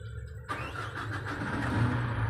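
An excavator's diesel engine cranks and catches after a half-second of quiet, then settles into a steady, rising rumble, close by with no speech.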